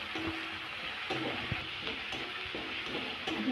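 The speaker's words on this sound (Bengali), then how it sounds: "নেড়ে চেড়ে ভেজে নিয়েছি" Onions, with ginger-garlic paste, are stirred and fried in a pan for a potato, pointed gourd and prawn curry, giving a soft continuous sizzle with a few scraping stirs and light clicks, close and without talk.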